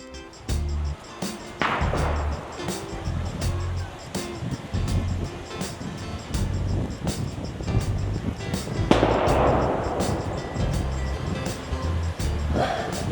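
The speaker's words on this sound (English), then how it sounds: "Basically a lot of children, they are setting off firecrackers." Firecrackers set off by a crowd of children nearby on a street in China, sharp pops and bangs scattered over a continuous loud din, with one bigger burst of crackling about two-thirds through.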